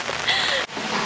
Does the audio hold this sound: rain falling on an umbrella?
yes